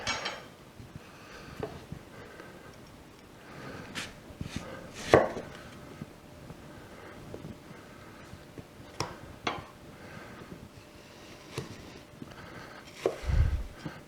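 A knife cuts a slice from freshly picked garden produce outdoors, a few soft scattered taps and crisp cutting clicks over quiet background noise.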